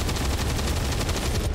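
Gunfire in the video game XCOM 2, a dense rapid burst of repeated shots sustained at a fairly loud, even level from start to end.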